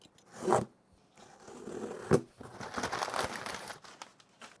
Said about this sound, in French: on va unboxer ce petit colis